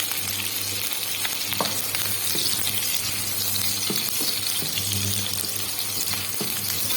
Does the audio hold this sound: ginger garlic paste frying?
yes